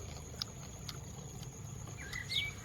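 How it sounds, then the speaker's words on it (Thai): Water flows steadily outdoors as a low, continuous rushing murmur throughout, fairly faint, with a few faint chirps of a bird near the end and no talking. "น้ำไหลอยู่ค้างๆนี่นะผู้ชม"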